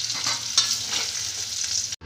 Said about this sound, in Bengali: ওই তেলে আমি একটা তেজপাতা আর গোটা জিরে ফোড়ন দিলাম